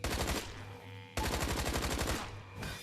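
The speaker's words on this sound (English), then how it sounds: "There was a time when I could not hit anything with this standard issue machine gun." Rapid, sustained bursts from a standard issue machine gun in a tower-defense shooter, two long loud streams of fire separated by a short pause, close and alone with no voices.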